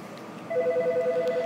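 An IP desk phone on a PBX system starts ringing halfway through with a steady electronic warbling tone, pulsing rapidly and clearly over low room hum.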